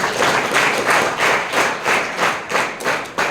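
Tenth-class students at a school career guidance program clap loudly in unison, a close, full burst of hand claps pulsing in a steady beat of roughly three claps per second.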